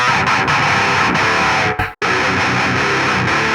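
A loud, heavily distorted electric guitar plays nu metal, chugging in thick palm-muted bursts, cutting out briefly before the crunchy wall of sound resumes.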